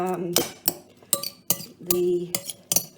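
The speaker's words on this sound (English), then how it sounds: "So let's give that a really good stir." Mango salsa is stirred in a bowl with a utensil, giving a run of sharp clinks and scrapes against the dish, close and fairly loud, with a voice briefly audible.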